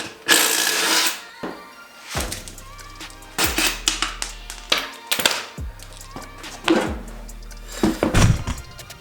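Tires come off a Turbo 660 lawn mower: a handful of loud, close, hollow thunks and clanks of tools on the wheel hubs, spaced by short quiet gaps.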